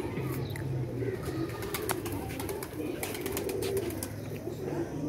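A pair of Rampuri pigeons cooing in a soft, repeated low murmur against a busy background with faint chirps and wing flutters.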